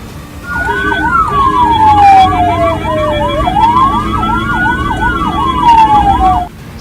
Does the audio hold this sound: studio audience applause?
no